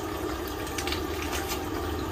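Bones being washed under a steadily running kitchen tap, a continuous close splashing stream with faint flickers of water hitting them and no talk.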